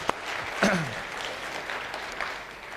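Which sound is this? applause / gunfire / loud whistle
applause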